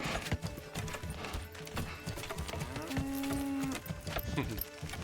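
A cow in the video game Manor Lords gives a single drawn-out moo partway through, set among faint hoof clip-clops and ambient farm sounds, fairly quiet overall.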